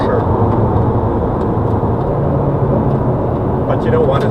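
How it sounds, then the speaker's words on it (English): A 2017 Ford GT supercar's engine drones steadily, heard as a dense, constant low roar filling the cabin with no breaks or revs. "You will hear the engine noise for sure."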